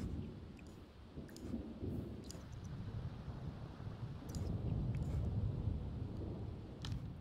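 A thunderstorm in The Sims 4 sets steady rain hissing, with low thunder rumbling underneath and a few light clicks scattered through, holding at an even level throughout.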